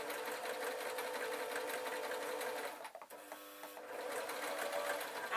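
A sewing machine stitches fabric for a bunny puppet, a rapid continuous mechanical chatter that pauses briefly midway and then resumes, close and clear.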